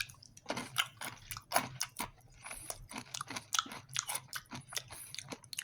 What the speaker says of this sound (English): Let's try some of the peanuts. Obviously, they're caramel coated.